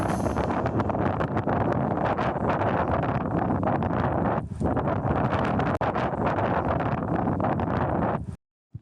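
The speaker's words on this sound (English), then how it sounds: "the wind blows strong and cold" Strong, cold wind at the Cliffs of Moher roars and buffets the microphone almost without pause, loud and gusty throughout, cutting out briefly near the end.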